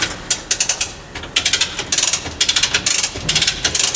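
A come-along winch is ratcheted to tighten a 5/8 cable on a shuttle floor trailer, producing loud, close bursts of rapid metallic pawl clicks in quick repeated strokes with short pauses between them.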